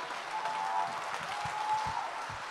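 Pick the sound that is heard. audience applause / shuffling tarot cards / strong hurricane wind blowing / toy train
audience applause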